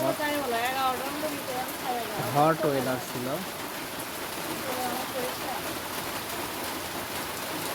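Steady rain falls, a continuous wash of patter heard nearby while a person talks over it for the first few seconds before the rain carries on alone.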